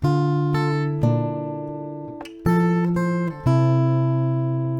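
Acoustic guitar strums a sequence of ringing chords, each allowed to sustain and decay before the next change, played alone without voices.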